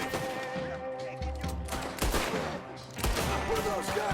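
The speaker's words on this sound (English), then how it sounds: "What are those guns they have?" Gunfire in the video game Red Dead, with dense, repeated shots in rapid bursts under game music and voices, loud and close throughout.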